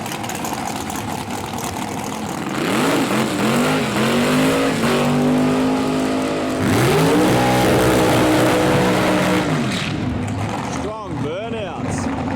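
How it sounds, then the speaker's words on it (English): Pink altered dragster in the modified class at Perth Motorplex doing burnouts, engine revving in long rising and falling sweeps over a constant crowd and track roar, with a commentator talking throughout. "Strong burnouts."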